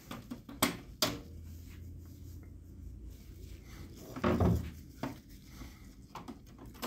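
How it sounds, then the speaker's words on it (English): Opening the rear access door of an HP printer gives a few faint plastic clicks and knocks, separated by quiet stretches, with one louder clunk midway. "We're going to open the rear access door."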